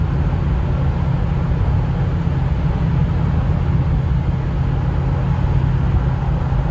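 A 2007 Ford F-250 4WD Lariat with a 6.0L Powerstroke diesel and 164K miles cruises along a road, its low engine drone and road rumble steady and continuous from inside the cab, with no speech.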